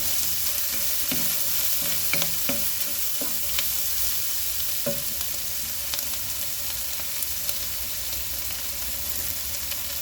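Chicken curry masala with ginger, garlic and curry leaves sautés in a pan, a steady close sizzle with occasional scraping stir strokes and no talking.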